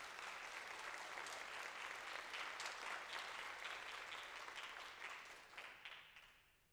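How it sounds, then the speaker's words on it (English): Applause from an audience at a high school awards ceremony in Mitchell, South Dakota: dense, steady clapping throughout, slightly distant in a large room, tapering off near the end. "give him a round of applause if you'd like"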